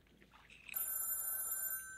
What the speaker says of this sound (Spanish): Le llaman por teléfono.